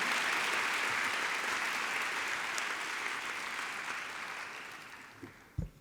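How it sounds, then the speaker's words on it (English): A graduation ceremony audience applauds associate superintendents with a dense, even wash of clapping. It holds steady, then slowly fades, with a brief knock or thump just before the end. "Let's give them a round of applause."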